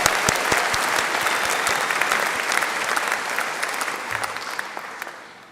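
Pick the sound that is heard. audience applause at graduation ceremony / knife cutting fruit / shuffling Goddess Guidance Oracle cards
audience applause at graduation ceremony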